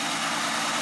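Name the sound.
1940 Plymouth flathead six engine idling with exhaust leak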